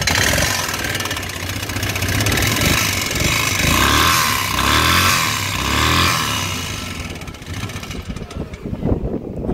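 A car engine runs steadily at a low rumble, swelling slightly as it revs before settling, heard up close with no talking.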